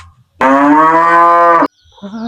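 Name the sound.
cow mooing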